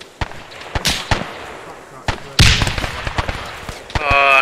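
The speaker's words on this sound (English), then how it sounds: "Oh, I got hit by my own frag." Frag grenade explosion in the ArmA 3 military shooter, a sudden loud burst around the midpoint among scattered distant bangs and gunfire, with a player's voice speaking near the end.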